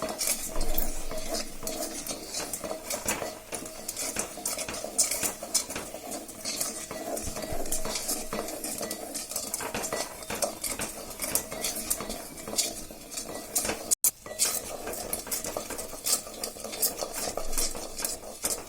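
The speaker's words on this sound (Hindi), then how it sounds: "ये देखिए बेसन को हम धीरे धीरे भून रहे हैं।" Gram flour (besan) roasts slowly in a pan over low heat and is stirred continuously, producing dense scraping and clinking of a utensil against the metal with a faint sizzle beneath.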